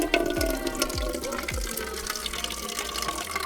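Water pouring steadily into a container for cows on a farm, a continuous splashing fill with several low thumps early on, moderately close and alone.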